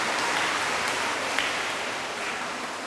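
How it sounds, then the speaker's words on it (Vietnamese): Steady applause from a congregation in a parish church during a first communion Mass, a dense wash of clapping that holds for a few seconds and tapers slightly toward the end. "cho một tràng pháo tay."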